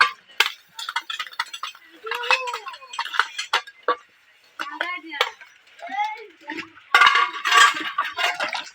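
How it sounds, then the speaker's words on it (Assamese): Dishes being washed outdoors after a picnic meal: steel plates and utensils clinking and scraping in short irregular bursts, with splashing, close by, and voices chatting over and between the clatter. "এতিয়া বাচন ধুই আছে সুবিতা আৰু সোনা বাচন ধুই আছে"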